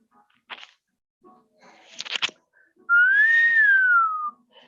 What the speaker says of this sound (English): I don't know why I started whistling